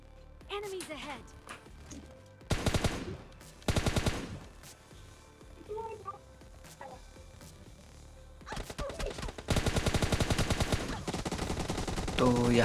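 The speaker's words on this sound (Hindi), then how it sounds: "अब इस साइड से ये फायरिंग कर रहा था" Gunfire in the mobile battle-royale game PUBG Mobile Lite: several loud bursts of rapid automatic shots, some brief and separated, ending in a long sustained volley, with a voice talking at times in between.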